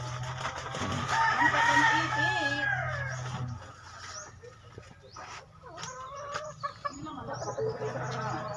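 A rooster crows over steady clucking from nearby chickens, followed by scattered softer clucks and farmyard rustling.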